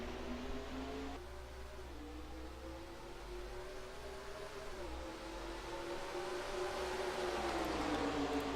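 A NASCAR Racing 2003 field of stock cars accelerates from the green flag at Darlington, a steady engine drone whose pitch climbs and shifts as the pack pulls away, without talk.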